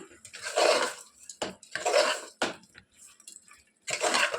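A spoon scraping and clanking inside a pot while garam masala and other spices are mixed in, with several loud bursts of stirring broken by short sharp metallic knocks.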